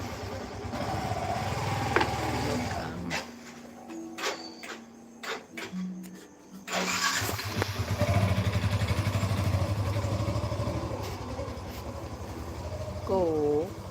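A motorcycle engine runs nearby, a steady droning rumble that thins out midway and returns strongly, with people talking intermittently over it.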